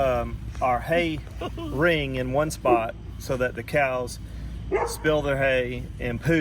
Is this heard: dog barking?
yes